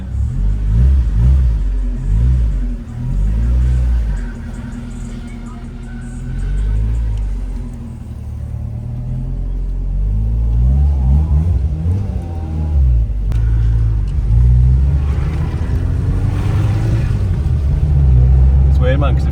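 A Nissan Micra K11 engine converted to a 1.4 turbo revs repeatedly in deep rumbling surges, loud and close, with people talking over it.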